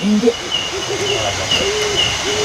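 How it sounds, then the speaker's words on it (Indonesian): Repeated soft hooting of a bird, likely an owl, sounding in a slow series of low calls over a steady background hum, fairly near and clear. "itu burung, ada burungnya juga itu"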